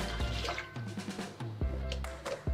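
Rinse water being poured off beef oxtail, heard as close splashing, trickling and dripping bursts with short pauses between pours.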